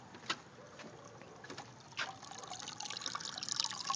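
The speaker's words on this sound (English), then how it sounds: "Right here is where the water's coming in" Water pumped from a reservoir tank into an aquaponics grow bed at weak flow, a quiet continuous trickle and splash with occasional louder gurgles building slightly toward the end, no voices.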